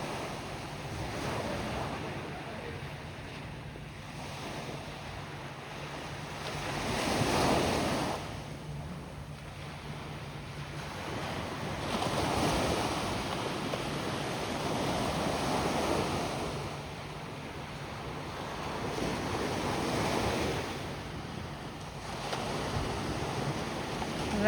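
Ocean waves roll onto Bournemouth Beach at night, a steady wash of surf with swells that rise and fall every few seconds, mixed with wind buffeting the microphone, and no voices.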